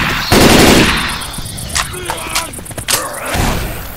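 Gunfire from the video game Left 4 Dead 2, played on PC in The Parish campaign: a loud burst of automatic fire opens, followed by scattered sharper shots and mechanical clatter.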